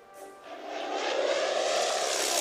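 Aircraft engine from a WWII strategy game, a rising propeller-plane drone that swells within the first second and then holds loud and steady.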